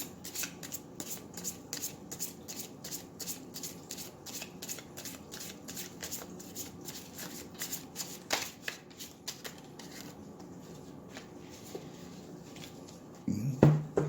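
Tarot cards shuffled by hand in steady, rapid riffling bursts, close and fairly quiet, with a few louder handling knocks near the end and no talk.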